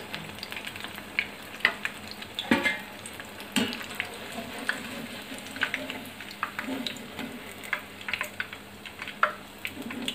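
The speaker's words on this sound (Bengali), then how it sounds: "বেসনটা আগে গুলিয়ে রাখার কারণে বেগুনিগুলো খুব সুন্দর ফুটছে" Eggplant fritters (beguni) dipped in gram flour batter fry in hot oil, a soft continuous sizzle dotted with sharp pops, crackles and occasional clinks, fairly quiet and close.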